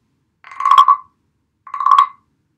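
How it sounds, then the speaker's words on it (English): Two scrapes across the back of a large wooden frog guiro, the grandpa frog, each a close, loud, lower-pitched ratcheting croak about half a second long, separated by a brief silence. "grandpa frog sounds like this."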